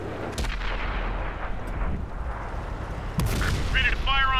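Deep booming blasts of tank cannon fire in World of Tanks on Xbox, a heavy shot near the start and another louder one later, with rumbling game ambience and a voice talking over it.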